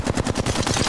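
Rapid automatic gunfire in a shooter video game, a dense burst of about eight evenly spaced shots in under a second, loud and close with no talking.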